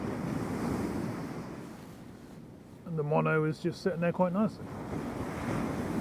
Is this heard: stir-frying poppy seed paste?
no